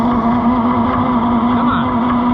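A John Deere 55 EB combine engine labors loudly and steadily nearby, its strained drone holding a strong low hum with a rough, uneven undertone throughout.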